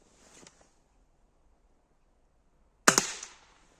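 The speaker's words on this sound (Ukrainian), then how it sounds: "Зараз постріляємо, подивимося, як гвинтівка стріляє" A single sharp shot from an IZh-38 rifle cracks out after a faint earlier pop, followed by a brief decaying echo in otherwise quiet surroundings.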